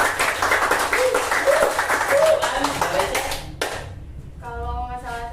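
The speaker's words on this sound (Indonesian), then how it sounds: "Tepuk tangan," Group of students clapping hands during a group counselling session at a school, brisk applause under talk for several seconds, then fading as a voice continues.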